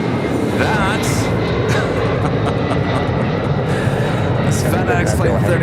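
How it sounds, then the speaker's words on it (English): A FedEx MD-11 jet bound for Newark gives a steady, loud engine roar at LAX in heavy fog, filling the whole span, with someone talking over it throughout. "FedEx Plane 3901 heading to Newark in an MD-11, as you can hear"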